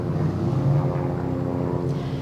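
An aircraft engine drones steadily overhead outdoors on a summer day, a loud continuous rumble that holds for the whole stretch with no voices over it.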